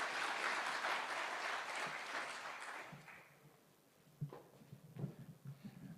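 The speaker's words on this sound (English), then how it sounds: "A round of applause," Audience applause at an inauguration event for an international contact centre, with steady broad clapping from a crowd for about three seconds that fades away, followed by a few scattered thumps and faint movement sounds.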